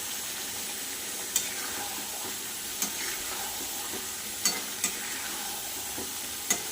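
Chicken curry with tomato and coriander leaves sizzles steadily as it is stir-fried in a pan, a continuous close frying hiss broken by a few sharp clinks of the spatula against the pan.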